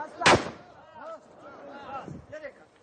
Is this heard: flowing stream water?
no